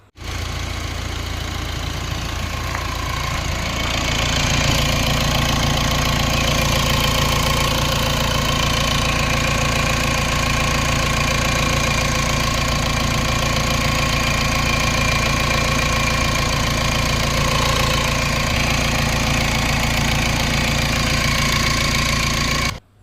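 A Mahindra Scorpio SUV diesel engine idles steadily and loudly, with a constant low rumble and a faint rhythmic knock throughout.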